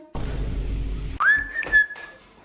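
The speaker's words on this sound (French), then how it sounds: "parce que vous me sifflez depuis tout à l'heure" A person whistles close by, a sharp rising whistle followed by a shorter second one, after a stretch of steady background noise.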